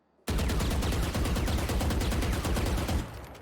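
Rapid automatic assault rifle fire in the Valorant video game, a loud continuous burst of closely spaced shots lasting about three seconds before cutting off abruptly, with no voices over it.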